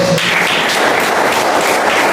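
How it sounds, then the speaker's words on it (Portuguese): A church congregation applauding Jesus at a communion service, dense, steady clapping that fills the room loudly throughout with no break. "Aplauda Jesus bem forte."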